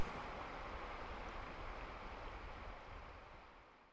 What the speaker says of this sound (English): I can hear the sound of the Locksaw River, a lullaby that soon finds me fast asleep